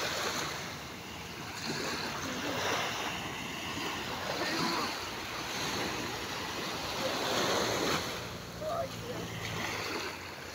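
Gentle surf washes onto the seashore at Alanya, a steady soft rush with slow swells of noise and some wind buffeting the microphone, heard alone without speech.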